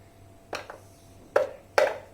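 A knife chops through a block of glycerin soap base three times, sharp isolated thuds spaced unevenly and heard close and fairly quiet against a faint steady hum.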